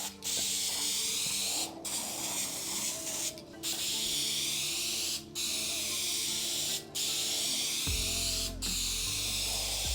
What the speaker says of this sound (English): It sputtered like crazy because I was painting it at an angle.